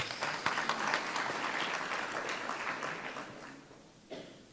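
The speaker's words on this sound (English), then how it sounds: "Can we give them a round of applause, please?" Applause at a cybersecurity hackathon for its sponsors and partners, a fairly faint burst of clapping that starts full and gradually thins out, ending with a few scattered claps.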